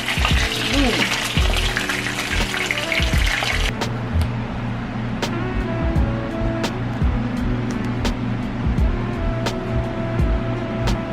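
A hard shell taco fries in hot oil, starting with a loud bubbling sizzle that drops to a quieter, steady simmer marked by sharp pops and clicks, with a low background hum.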